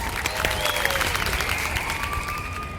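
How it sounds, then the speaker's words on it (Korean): Audience applause welcoming an invited lecturer to the stage, a steady wash of many clapping hands filling the whole stretch at an even, sustained level, with a few faint whistles or cheers riding over it. "큰 박수로 환영 부탁드립니다."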